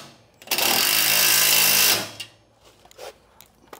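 Power tool driving and tightening a bolt on a garage door track, one loud sustained whirring burst of about one and a half seconds that starts and stops abruptly. A few soft clicks and handling knocks follow.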